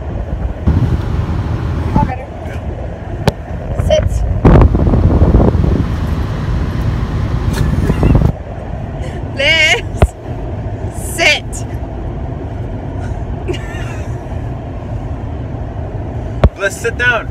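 Car cruising on a highway on a long drive, with continuous interior road rumble and wind noise throughout; people talk over it and a dog is present in the cabin.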